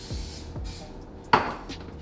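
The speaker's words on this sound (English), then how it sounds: "And we use coconut spray because it is so good" A short, quiet hiss of coconut cooking spray bursts once in a home kitchen, surrounded by faint rubbing and light utensil clatter.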